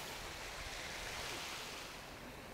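Water pours continuously down a constructed rock waterfall feature, a dense, even rush of splashing that stays steady and fairly loud throughout, with no voices.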